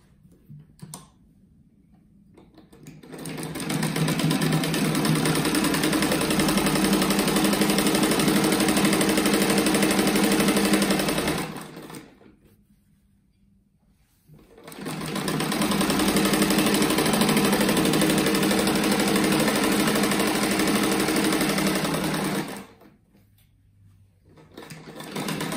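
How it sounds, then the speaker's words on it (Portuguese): A sewing machine runs in two long, steady bursts as it stitches fabric for a homemade rug, loud and close with quiet pauses between. "Vou costurar esse do lado primeiro."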